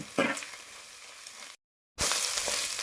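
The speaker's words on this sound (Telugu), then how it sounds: "ఈ అల్లం వెల్లిపాయ పేస్ట్ కూడా మంచిగా పచ్చివాసన పోయేటట్టు వేయాలి" Onions with ginger-garlic paste browning in a pan for a village-style egg curry, a soft, close sizzle with a brief stir early on, cut by a short gap of silence before the frying resumes.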